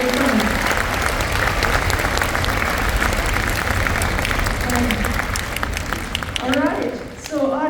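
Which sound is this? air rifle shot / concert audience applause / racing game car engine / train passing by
concert audience applause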